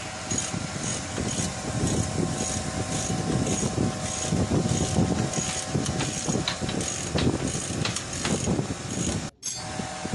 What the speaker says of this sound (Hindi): इसके स्टड और बोल्ट खोले जा रहे हैं लूज़ किया जा रहा है अभी